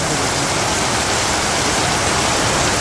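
A close, loud wash of heavy monsoon rain drums over a village in Bangladesh, a thick, steady rushing hiss without pauses or talk.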